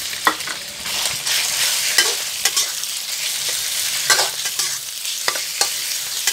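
Pork stir-fried in a pan, a continuous loud sizzle with repeated scraping and clacking strokes of the spatula against the metal, close up and with no talk.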